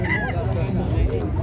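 Rooster at a chicken beauty contest crows loudly up close, with the call rising and then trailing off, while other fowl cluck and murmur in the background.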